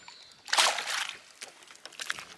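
A sudden splash and slosh of water as a fish is flipped into a boat, followed by a few lighter drips and knocks; fairly quiet and close.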